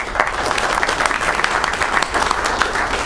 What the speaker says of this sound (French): Je pense que vous pouvez vous applaudir pour le coup.